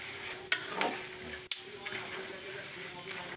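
Snacks cooking in a pan at a market stall, a steady sizzle and frying hiss with occasional clinks and stirring scrapes, close by.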